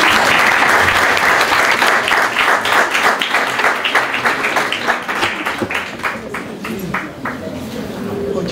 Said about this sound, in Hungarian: Neki is egy tapsot.